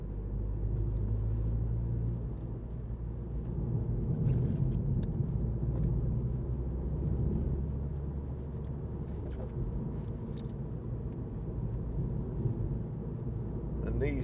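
A 2016 MINI John Cooper Works hatch with a 2.0 litre engine driving along a road, heard from inside as a steady low engine and road rumble, with brief gear-change sounds and a voice talking over it.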